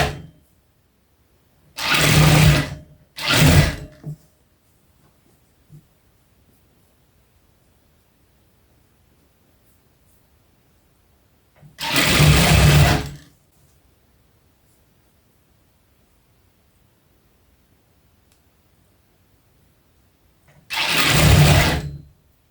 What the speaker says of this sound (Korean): 주름 골고루 이렇게 안 찝히게 하시면서 그냥 박아주시면 되겠습니다